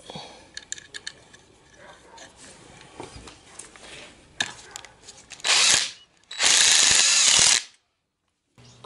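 A power tool tightens a screw and nut on the rear axle of a Traction 11B during reassembly, running in two loud whirring bursts after a stretch of quieter clicks and handling noises.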